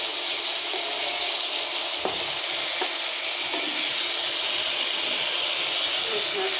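Hilsa fish pieces go into a pan of spiced masala cooking with taro stolons, setting off a steady, loud hiss of frying and sizzling close up, with a few faint clinks of utensils.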